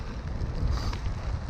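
Wind buffets the microphone during a rainy bike ride, a steady low rumbling roar that fills the whole stretch with no break.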